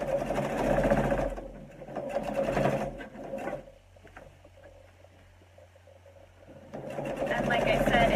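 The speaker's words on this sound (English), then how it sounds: "I'm sewing now, top stitching my sleeve," A sewing machine topstitching a garment's sleeve armholes, running in rapid bursts that pause and resume, with a voice talking over the stitching.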